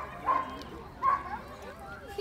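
A dog at a canine exhibition gives two short barks amid faint background noise and distant talk.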